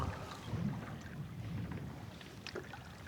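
Wind buffets across a lake during a cold late-season fishing outing, a steady low rumbling gust pressing on the microphone with faint water movement underneath and no talking.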